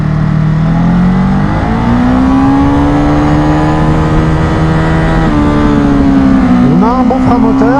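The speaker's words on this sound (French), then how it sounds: "Un bon frein moteur." Ducati Monster 2021 motorcycle engine braking while ridden in sport mode, a loud close engine tone sliding steadily through its pitch with a few quick blips near the end, with a voice talking over it.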